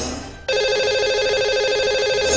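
A telephone ringback tone sounds as a call is placed to a lucky caller, a loud, steady warbling electronic tone starting abruptly and holding without a break.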